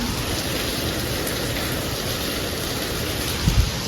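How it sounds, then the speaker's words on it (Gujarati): Steady rain falls in a dense, even hiss, with a couple of brief low thumps near the end. "વરસાદ આવી"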